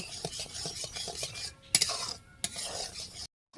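Ripe palm fruit pulp, lightly salted, boils thickly in a pot while being stirred, giving repeated soft scraping and knocking strokes of a utensil against the pot with brief bubbling, a short break and a sudden silence near the end.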